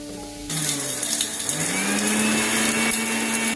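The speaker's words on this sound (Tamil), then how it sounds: "நம்ம மிக்ஸி ஜாரில் சேர்த்துட்டு நல்லா பவுடர் பண்ணி தண்ணி சேர்க்காம அரைச்சிக்கலாம்" A mixer grinder starts abruptly and runs loud and steady, its motor whining with a rising pitch as roasted spices grind dry into powder, continuous to the end.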